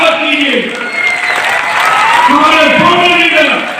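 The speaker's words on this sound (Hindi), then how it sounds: "जोरदार तालियों के साथ स्वागत कीजिए" Loud, steady applause from an audience at a Rootpure Success Day training event in Patna welcomes a former leader, with a voice talking over the clapping throughout.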